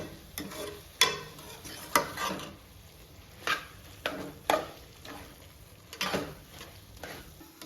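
Carrots and cream (malai) for desi-style carrot halwa are stirred in a pot, a series of scraping strokes roughly every second with a soft sizzle underneath, close and without talk.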